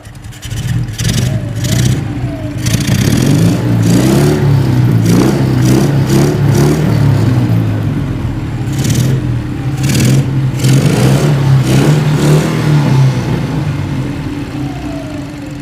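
Repeated throttle blips from a 1960s BMW R60 vintage motorcycle, its engine rising and falling in loud revs over a steady idle, close by, with brief talk in the background.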